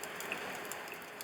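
Steady rain falling on a rainy day, a soft, even patter with scattered faint drip ticks, moderately quiet and distant, with no voices.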